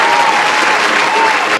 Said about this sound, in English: let me get some applause going for y'all